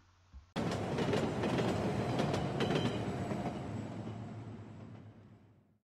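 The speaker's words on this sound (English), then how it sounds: "He blew the whistle and watched as the train left the platform and headed down the line." A train pulls away from a platform, a loud steady rumble of wheels with rhythmic clickety-clack on the rails, sustained and close, slowly easing in volume toward the end.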